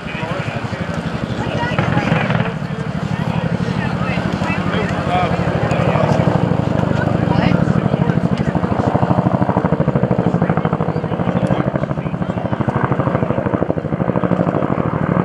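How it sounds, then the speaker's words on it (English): An AH-1W Whiskey Cobra attack helicopter at an airshow throbs loudly and steadily with rapid rotor beats and wind buffeting the microphone, while a public-address announcer talks over it. "The Whiskey Cobra has twice the power and lift capability of the previous versions"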